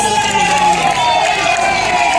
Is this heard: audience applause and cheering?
yes